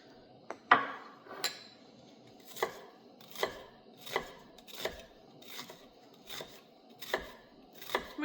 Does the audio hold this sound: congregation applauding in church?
no